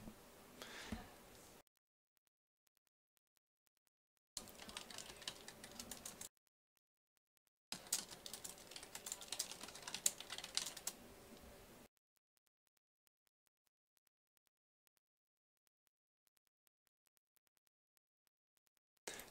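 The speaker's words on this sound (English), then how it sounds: "that's me typing" Bursts of computer keyboard typing, rapid clicking keystrokes in three separate stretches with silent gaps between them, close to the microphone.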